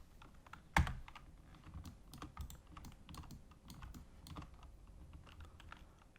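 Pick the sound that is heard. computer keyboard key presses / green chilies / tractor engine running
computer keyboard key presses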